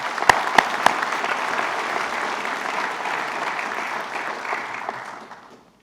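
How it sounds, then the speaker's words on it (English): An audience applauds award recipients at a state public safety awards ceremony, a few sharp claps up front, then steady, full applause that fades out near the end. "Let's have another round of applause for those recipients"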